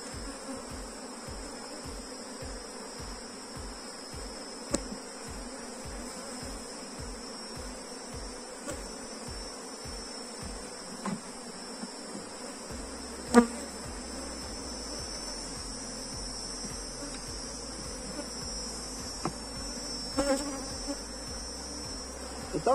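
A honeybee swarm buzzing in an opened beehive, a steady high drone holding throughout at a soft, even level, with occasional brief knocks and clicks.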